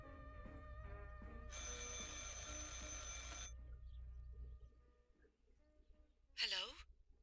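An old-style telephone rings insistently inside the game Martha is Dead, a long bright bell burst over a dim, murmuring ambient bed. A short chirping tone follows near the end, with quiet background talk.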